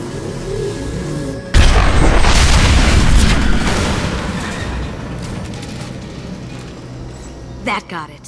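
Explosions rip through tanks in the Mass Effect video game, a sudden loud booming blast that rumbles and fades over several seconds, with a faint spoken voice beneath and a short crackle near the end.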